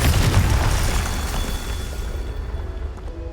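Confringo blasting spell in the Hogwarts Legacy video game, a heavy booming explosion with a deep low rumble that decays slowly over a few seconds, loud and without any voices over it.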